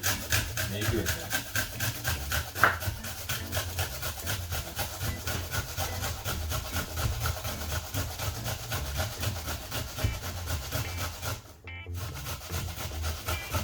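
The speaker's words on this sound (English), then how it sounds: "My onion, I just grate that." An onion being grated by hand for a curry chicken back dish, with steady, continuous rasping strokes running throughout at close range.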